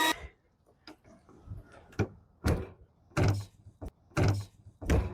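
A door opening and closing at an RV campsite, heard as a series of sharp knocks and thuds in separate bursts with quiet gaps between them and no talk.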